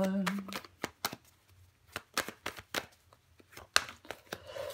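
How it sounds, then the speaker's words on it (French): Tarot cards are laid out and turned over on a table, making a series of sharp, separate slaps and flicks at an uneven pace. A voice talks briefly between them. "on va recouvrir des cartes"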